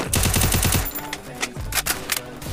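Rapid bursts of automatic gunfire from a 4v4 shooter video game rattle in quick succession, followed by a few scattered single shots, all loud and close, with faint commentary beneath.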